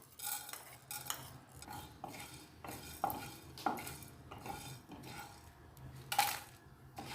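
Coriander seeds stirred on a hot tawa pan over a gas flame, giving scattered scraping and rattling clicks of spoon on metal in an irregular rhythm, close and moderately quiet with no talking.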